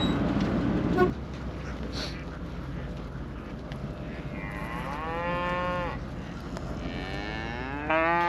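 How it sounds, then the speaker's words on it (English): Cattle moo several times, long low calls rising and falling over a steady outdoor background, one after another near the end. "Hi, cows."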